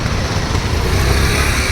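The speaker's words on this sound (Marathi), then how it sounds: "गाड्यांचा आवाज पण येतोय." Traffic on a busy Pune street near a market gives a steady rumble of cars and motorbikes at moderate distance, with a voice talking over it.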